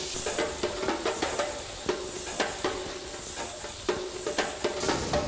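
Veal chops sizzle loudly on a Grillworks wood-fired grill as they are basted with their drippings, giving a constant close hiss broken by repeated sharp crackles and spits in an irregular rhythm, with no talking.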